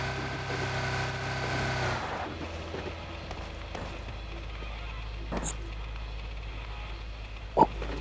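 Vehicle engine droning steadily while driving in the PUBG Mobile battle royale game, a continuous mid-pitched hum with a few sharp game effects and clicks near the end.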